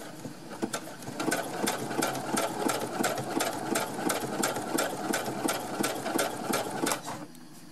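A sewing machine runs a zigzag stitch through cotton fabric for baby mittens, starting after a second and sewing in a steady, rapid, close-up mechanical rattle for about six seconds before stopping. No voices.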